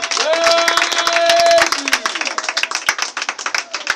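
A church congregation claps and acclaims during a French-language sermon: voices cry out together, then many hands clap in a rapid, loud, irregular patter that continues and slowly thins.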